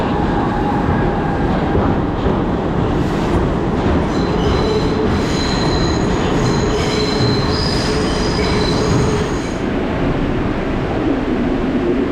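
A New York subway train arriving at Canal Street station in Manhattan rumbles loudly in, its wheels squealing in sustained high-pitched screeches over the steady roar of the cars.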